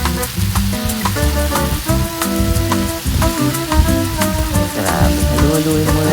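Pork and sinigang-flavored basmati fried rice sizzling loudly in a pan while being stirred, a dense continuous crackle with scraping from the stirring and no talking.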